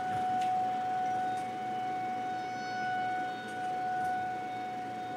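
An outdoor civil defense siren sounds during a test in Seguin, a steady sustained wail held at near-constant pitch with slow swells in loudness, carrying over a softball game.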